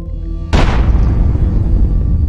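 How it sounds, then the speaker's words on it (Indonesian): A film sound effect of a large explosion as a space object strikes a capsule: a sudden loud boom about half a second in, followed by a long rumbling decay that fills the rest of the clip, with no voices. "Tiba-tiba sebuah benda angkasa menabrak kapsul mereka. Lalu dari balik jendela, Isaac dan Alana melihat sebuah ledakan besar"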